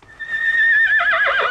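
A horse whinnies loudly and close up in a scene from the 1980 comedy film Airplane!. The call starts as a high, steady squeal and breaks into a shaky, quavering neigh that fills the whole moment.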